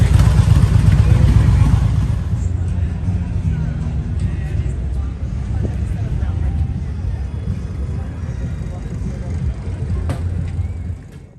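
Idling motorcycle engines rumble low and steady nearby at Laconia Motorcycle Week, louder at first then settling into a constant drone before cutting off at the end.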